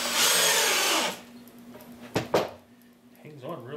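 A power drill with a longer bit drives into a wooden migratory bee hive cover in one loud whining burst of about a second. A couple of sharp knocks follow at close range.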